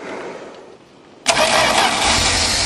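A 1977 Dodge Tradesman van with a slant-6 engine cold-starts in freezing weather: a quiet moment, then the engine abruptly catches and settles into a loud, steady, rough idle close by.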